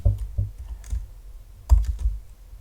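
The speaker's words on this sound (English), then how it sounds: "Let's type" Close typing on a computer keyboard while coding a web app, heard as short bursts of a few quick keystrokes with a pause between them, and no voices.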